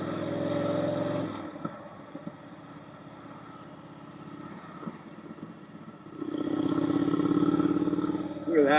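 Yamaha Bolt motorcycle with the exhaust baffle removed, its loud engine drone rising at the start and again near the end, quieter mid-stretch with faint thumps and wind.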